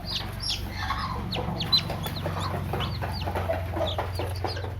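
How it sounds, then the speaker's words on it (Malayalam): Newly hatched chicks peep in quick, high, repeated calls over a low clucking first-time broody hen, fairly close and steady throughout. "ഈ കോഴി കുഞ്ഞുങ്ങളുടെ ശബ്ദം കേട്ടിട്ട് കോഴി അവിടെ ശ്രദ്ധിക്കുന്നുണ്ട്"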